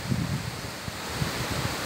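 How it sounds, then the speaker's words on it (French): Gusty seaside wind buffets the microphone in uneven rumbling bursts, a broad rushing noise beneath, with no voices present. "il y a du vent"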